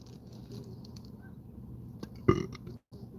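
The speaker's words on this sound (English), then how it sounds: "Did I really burp?" A single short, loud human burp erupting midway through a quiet room tone, briefly sharp and close, followed by a moment of near silence.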